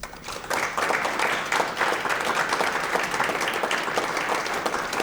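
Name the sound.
audience clapping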